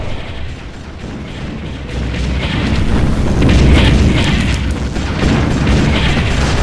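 Explosions of units being destroyed in the real-time strategy game Ground Control, a dense, loud barrage of booms and rumbling blasts swelling and continuing over mechanical battle noise, with no speech.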